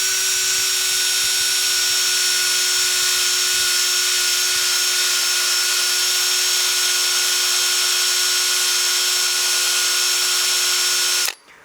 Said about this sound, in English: I can sand it much quicker with a power drill